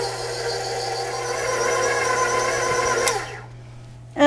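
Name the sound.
stand mixer running on stir, mixing cookie dough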